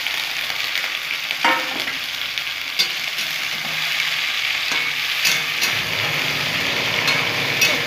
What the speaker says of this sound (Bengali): খুব সুন্দর করে আমি নেড়ে নেব।